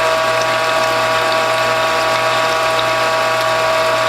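The ratcheting press of a Whole Health Foundation juicer being advanced while squeezing organic Bartlett pear pulp, giving a loud, steady mechanical grinding and clicking hum that stays unbroken throughout, close and without voices.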